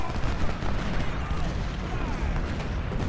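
Artillery cannons in the Civil War game Ultimate General: Civil War boom in a dense, continuous barrage, heavy rumbling blasts overlapping into a loud roar with no pauses.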